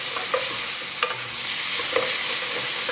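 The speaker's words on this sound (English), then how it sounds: "I'll stir this for a bit" Sofrito vegetables sautéing in a pot for a red chowder, with a bright steady sizzle punctuated by a few quick scrapes and taps of the spoon as they are stirred.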